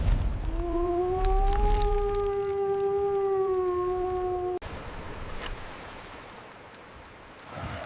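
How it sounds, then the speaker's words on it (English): A long, deep, tonal roar with a wavering pitch rises and holds for several seconds, then cuts to low rumbling ambience. "Suddenly, the dragon awoke and roared in fury."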